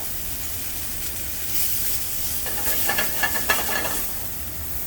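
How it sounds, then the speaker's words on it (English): Wood-fire-roasted Tokyo turnips get a light sear in a hot pan, a soft hiss of sizzle that swells and crackles in quick bursts during the second half, with a few stirring clatters and no talking. "we're just going to give them a light sear"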